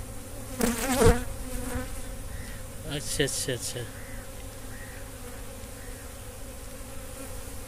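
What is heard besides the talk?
honey bees buzzing at an open beehive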